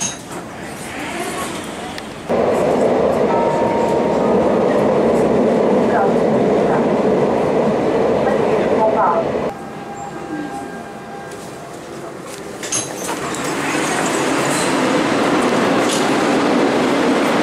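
A Lisbon Metro train rumbles steadily beside a platform at Bairro station, engine and wheel noise loud, easing briefly before swelling again as it moves off; faint voices underneath.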